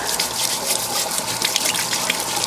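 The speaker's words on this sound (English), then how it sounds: "the first thing I'm going to do is try to get them washed up good." Steady rush of running water over sweet potatoes being washed in a kitchen, a continuous close splashing hiss without talk.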